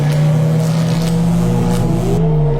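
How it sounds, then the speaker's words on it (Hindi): A car engine running steadily with a low droning hum and a faint rising tone near the end as it pulls away, loud and close with no talk. "सुमित जल्दी से गाड़ी स्टार्ट करता है और वहां से निकलता है"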